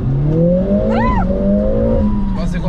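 A Mercedes CLA45 AMG pulls hard from standstill toward 70 km/h, its engine note rising steadily with a brief shift-like dip, heard from inside the car with people talking and laughing over it.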